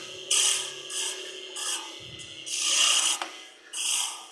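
A wood lathe tool cuts into spinning wood, giving repeated raspy scraping bursts of roughly half a second each, fairly close and moderately loud, with short quiet gaps between passes.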